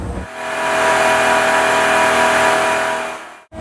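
A 5.7 Hemi V8 with an eTorque mild-hybrid system, as fitted to the 2019 Ram 1500, revs hard on a dynamometer, a loud, sustained engine roar that holds steady and then cuts off abruptly just before the end.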